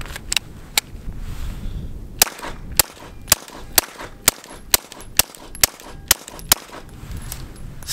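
About a dozen shots from a 9mm firearm through a modular 9mm silencer, sharp and fairly muted cracks spaced roughly half a second apart, near and clear over a low background hiss.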